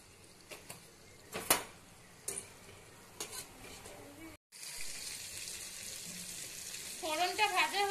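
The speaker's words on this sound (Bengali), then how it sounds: "দিয়ে দিচ্ছি কিছুটা কালো জিরে ফোড়ন।" Nigella seeds, a dried red chilli and torn bay leaf hit hot oil in a pan, giving a steady sizzle and crackle with a few sharp clinks of a spoon, close and moderately loud.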